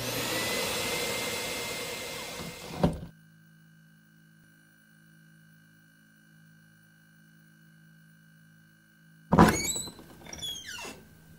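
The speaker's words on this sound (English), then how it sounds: "V is for vacuum." A vacuum cleaner runs loudly and steadily in a workshop for about three seconds, then cuts off abruptly, leaving near silence with a faint electrical hum before a few knocks and squeaks near the end.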